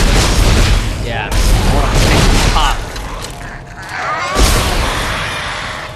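Gunfire and heavy impacts from Dead Space 2, loud booming blasts in dense bursts with a brief lull in the middle and a sharp strike near the end, with voices mixed underneath.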